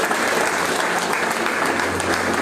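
Dense, continuous applause from a church congregation, loud and steady across the whole stretch with no talk over it.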